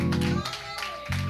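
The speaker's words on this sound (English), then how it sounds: "With the clapping of our hands" Church congregation clapping hands together at a service, a short burst of rhythmic claps around a spoken voice, fairly close and loud.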